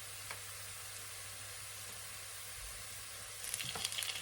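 Shrimp fry in garlic oil in a pan, a soft steady sizzle with light crackling that grows busier and more spattery near the end.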